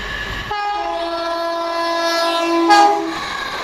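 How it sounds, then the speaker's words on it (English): A London Midland train pulls out of Coseley station on the Birmingham New Street to Liverpool Lime Street service. A loud sustained two-tone horn sounds over the rumble of the departing train, and the horn swells briefly near the end. "now leaving with the 1347 London Midland service from Birmingham New Street to Liverpool Lime Street"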